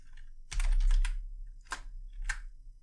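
Computer keyboard keys clatter in quick, uneven bursts of close, crisp clicks with short pauses between clusters, no voices present.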